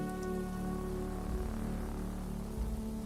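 Steady rain pours down in the night-time city street of the video game Travelling At Night, a dense continuous patter with a few low rumbles underneath, no voices.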